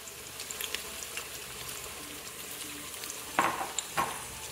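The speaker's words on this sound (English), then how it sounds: "So we will first saute the onions till they're nice light golden brown" Onions sauté in oil in an Instant Pot on saute mode, a soft steady sizzle with a few brief louder stirring scrapes near the end.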